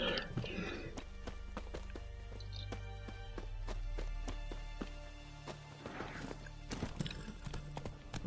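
Hooves of Roach, a horse in The Witcher video game, clip-clopping in a steady walking rhythm, clear and close, with an occasional whinny and some talk over the top.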